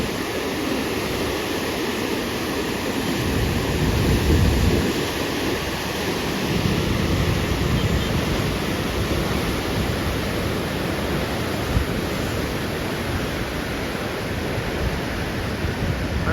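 River water rushes through the opened Koneripatti barrage in a steady, loud roaring wash that continues without pause, with no voices over it.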